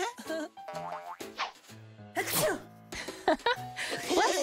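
A sneeze rings out amid a cheerful children's learning show, with a cartoonish boing and playful music around it, loud and close.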